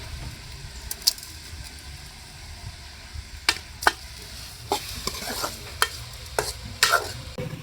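Tomato, garlic and rock salt sauté in a pan, giving a low continuous sizzle broken by scattered sharp scrapes and taps of a spoon stirring, louder toward the end.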